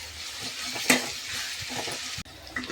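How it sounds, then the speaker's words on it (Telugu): Onion, green chillies and curry leaves frying in a pan, a steady sizzle with spatula scrapes and one sharper clatter, close and moderately loud with no talking. "ఆనియన్ బాగా ఫ్రై అయిపోతుంది కదండి"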